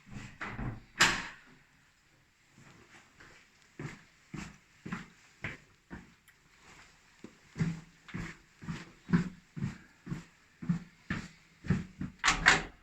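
A door opens with a clunk and is passed through, followed by a steady run of soft, evenly spaced knocks and thuds, fairly faint, ending with another louder knock.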